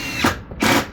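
Two short bursts of a power drill whirring up and stopping, close and fairly loud, on a fiberglass roofing job.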